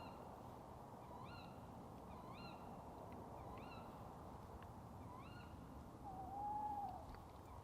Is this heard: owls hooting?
yes